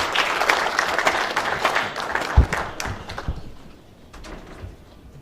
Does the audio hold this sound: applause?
yes